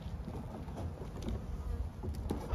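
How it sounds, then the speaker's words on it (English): Honey bees buzz inside a hive on a mild early-February day, a faint, steady, dense hum with light rustling throughout, and no voices. "But I can hear activity within the hive."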